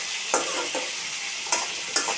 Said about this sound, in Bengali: আলুগুলো প্রথমে তেলে কতক্ষণ খালি খালি কষিয়ে নিব